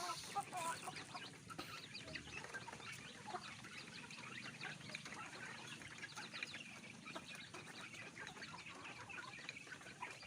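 Bangkok chickens in an enclosed coop cluck and call softly, a steady scatter of low, faint fowl sounds with occasional sharper notes, quiet and unaccompanied by talk.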